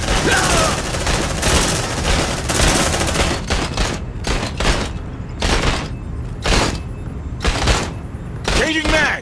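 Rapid, sustained automatic gunfire from a sci-fi squad shooter set in the Aliens universe, loud and dense bursts with booms and short pauses, while voices call out over the shooting.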